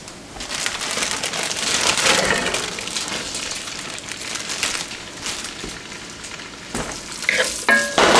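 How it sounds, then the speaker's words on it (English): Chicken sizzles and crackles loudly in a hot pot for gumbo, with stirring and scraping noises and a few clinks toward the end. "we're starting to sizzle."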